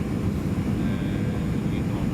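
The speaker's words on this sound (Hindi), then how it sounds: "विमान हवाई अड्डे के ऊपर पहुंच गया है" A fixed-wing airplane passes over the airport in Lima, Peru, heard as a steady, loud broadband engine roar that fills the whole stretch without letting up.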